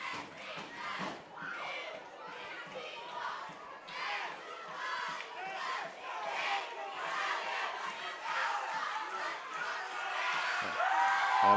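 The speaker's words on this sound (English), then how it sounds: "as you hear fans and everything cheering on." Crowd of fans at an eighth-grade middle school football championship game between Lewis County and Rowan County, shouting and cheering in a steady, swelling roar that rises toward the end, with young voices whooping throughout.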